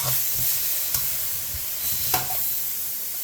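Red curry pork sizzles and hisses as it is stir-fried and charred in a hot wok, with a few sharp scrapes and clatters of the spatula against the metal breaking up the steady frying.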